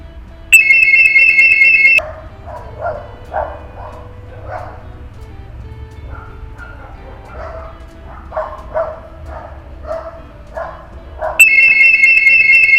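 An Arduino-built laser alarm blares a loud, piercing electronic tone at the start and again at the end after its beam is cut, while someone talks in between over a low hum.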